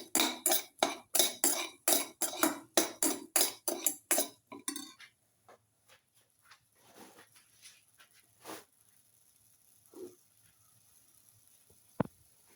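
Metal utensil stirring and sautéing salted egg, spinach and rice in a pan, a fast run of loud rhythmic scrapes and clinks for several seconds, then sparse softer taps and one sharp clink near the end.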